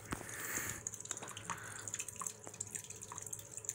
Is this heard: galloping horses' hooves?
no